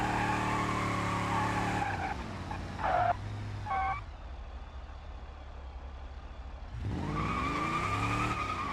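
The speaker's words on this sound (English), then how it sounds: "Maybe if I get legitimate drift tires on this thing, it might actually want to drift a little more." A car drifting in a racing video game, with a loud engine drone, a burst of screeching tire skid in the middle and the engine revving back up at the end, all without talk.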